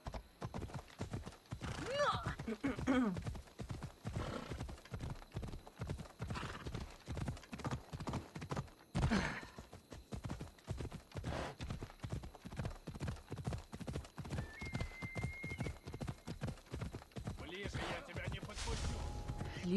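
Horse galloping with rapid rhythmic hoofbeats and occasional neighs in Assassin's Creed Odyssey, fairly faint, with someone talking over the game sound.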